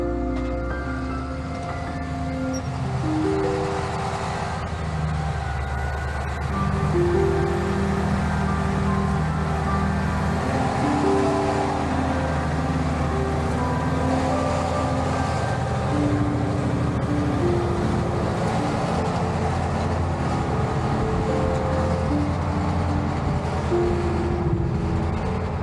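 A tractor engine running in a maize field, a steady droning hum with layered tonal whine, constant and fairly loud, shifting slightly in pitch across the whole stretch.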